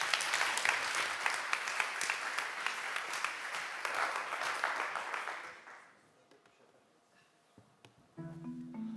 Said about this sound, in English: Please give the three of them a warm welcome and a big round of applause